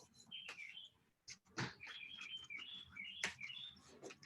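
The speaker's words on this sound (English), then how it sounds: "It's right outside the window. Oh my God, it sounds like you have a parrot there." Bird chirping just outside a window, a series of quiet, fairly distant whistled tweets and warbling phrases with a few sharp knocks or clicks between them, no speech.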